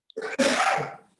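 One close, sharp sneeze with a quick breath in before it, followed by a fading exhale.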